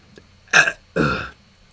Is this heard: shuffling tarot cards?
no